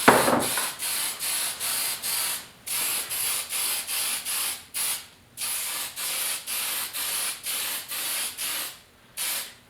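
Rusting solution sprayed onto metal from a trigger sprayer: a rapid series of about a dozen close, sharp hissing spray bursts, evenly paced with a few longer pauses and no voices.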